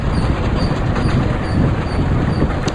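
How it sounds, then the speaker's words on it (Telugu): A train rolls steadily along the track in the Indian Train Simulator mobile game, a continuous, loud rumble with faint rhythmic clatter that never lets up. "చూసుకోవచ్చు మన ట్రైన్ ఎలా తిరిగిపోతుందో."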